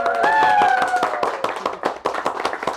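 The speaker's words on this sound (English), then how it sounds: "Round of applause." A studio audience claps at a poetry event, a round of applause with distinct sharp hand claps, fairly close and moderately loud, a tonal voice or whistle briefly sustained over the start before the clapping thins into scattered claps.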